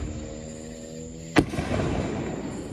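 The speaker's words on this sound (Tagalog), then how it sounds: "Tingin muna tayo dito ng fireworks." Fireworks burst over a backyard on the Fourth of July, one sharp loud bang standing out against a steady hum, followed by a rumbling crackle of lingering explosions.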